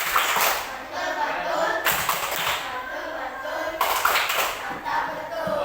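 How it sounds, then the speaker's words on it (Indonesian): A classroom group performs a rhythmic 'tepuk mantul' clapping cheer, bursts of claps in patterned sections with children's voices mixed in, close and lively. "Beri tepuk mantul kepada kelompok 1."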